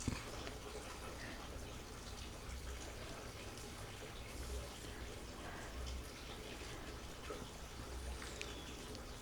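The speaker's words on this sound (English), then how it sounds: "So now John's pouring in the rainwater and getting this moss soaked up." Rainwater is poured onto orchid moss to soak it, a soft steady trickle and splash that runs continuously and fairly quietly, with faint background sounds around it.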